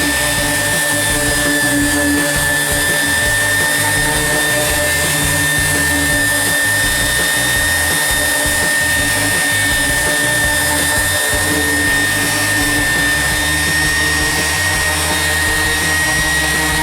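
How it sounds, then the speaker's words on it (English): An orbital sander smooths rustic wooden furniture in a constant, unbroken whine and whir that stays loud and close for the whole stretch. "Now I'm gonna pull out the orbital, a couple different grits of sandpaper, and start sanding this down"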